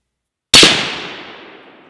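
A single sharp 7.62x39 rifle shot cracks out loud after a moment of silence, then rings off and decays slowly over more than a second, as the round strikes a steel plate at 100 yards.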